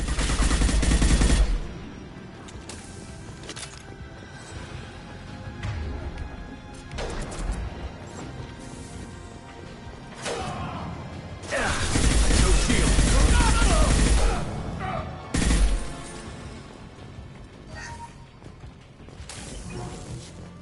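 Gunfire in the sci-fi shooter Mass Effect 2: loud bursts of weapon fire and crashing impacts come in uneven clusters, with heavy volleys early, in the middle and near the end and quieter game ambience between them.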